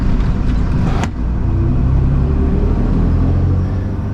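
A Mercedes-Benz Unimog U500 truck drives in traffic, a loud steady low engine and road rumble heard from the cab, with a brief sharp click near the start; no talking.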